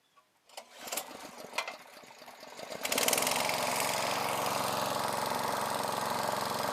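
A Mitsupower 411 two-stroke brush-cutter engine clatters through a few pull-start attempts, then catches and settles into a steady, loud, buzzing idle that carries on alone to the end.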